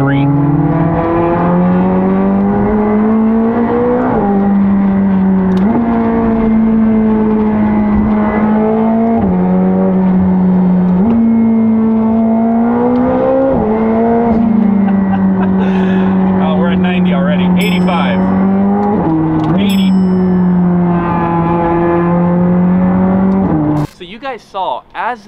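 A McLaren 765LT Spider engine pulls hard under acceleration, a loud sustained roar climbing through the revs with quick gear changes and a few sharp pops near the end.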